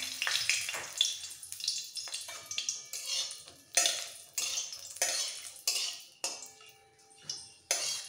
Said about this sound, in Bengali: তেলটা ভালোভাবে গরম হয়ে যাওয়ার পর 2টো শুকনো লঙ্কা আমি ভেজে তুলে নেব